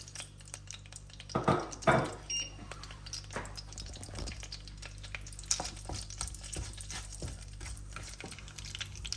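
Whole spices, a piece of cinnamon, small bay leaves, cardamoms and cloves, fry on high heat in a pan, giving a soft, steady sizzle broken by a few stirring scrapes and clinks.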